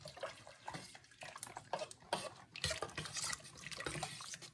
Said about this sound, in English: This is my seasoned water